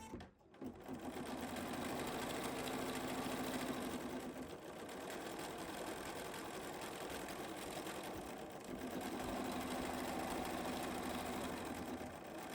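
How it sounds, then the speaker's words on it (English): An embroidery machine stitches a placement line through project batting set in a medium magnet hoop, a steady close mechanical whir with a rapid needle rhythm that runs continuously, dipping briefly in the middle before resuming. "the first step is just to stitch our placement stitch"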